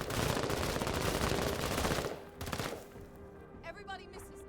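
Rapid automatic gunfire from units firing at an enemy in a turn-based video game. Dense bursts rattle loudly for about two seconds, then fade into softer clatter and a brief warbling effect.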